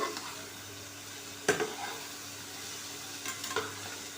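Bitter gourd, drumstick, potato, green chilli and tomato fry in a pan with a low, steady sizzle, punctuated by two brief knocks of a utensil against the pan.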